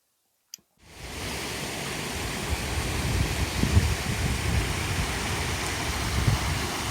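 Floodwater rushes down a creek in a steady, dense roar. It starts abruptly after a brief click and holds loud and close with no talk over it.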